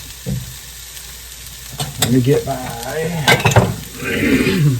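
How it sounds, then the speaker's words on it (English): Cauliflower sizzles loudly in a frying pan, with stirring scrapes and utensil clatter; a voice speaks briefly over the crackling. "we got a sizzle"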